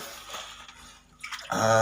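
Clear water trickling and flowing out of a hole, a close, soft liquid gurgle with a few drips that swells into a fuller, steadier rush near the end.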